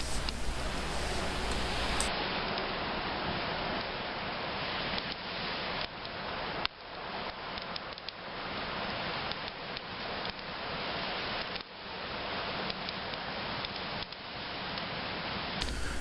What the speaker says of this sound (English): what you're listening to now is a combination of crackling fire and waves crashing